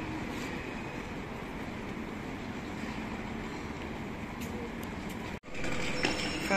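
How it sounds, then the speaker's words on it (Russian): Sightseeing tram running through Stockholm, a steady rumbling roll that stays constant for several seconds before a brief cut and then resumes. "Экскурсионный трамвайчик."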